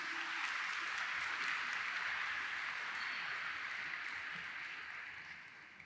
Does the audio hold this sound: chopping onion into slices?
no